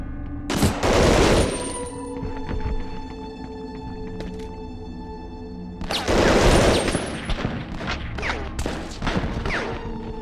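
Gunfire in the WWII shooter game Medal of Honor: Underground, two loud bursts of rapid rattling shots a few seconds apart, with scattered single cracks trailing after the second burst.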